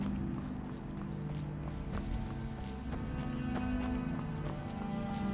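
Horse hooves clip-clop steadily in Skyrim, a fantasy video game, over a dense bed of game music and ambience, with a faint voice murmuring now and then.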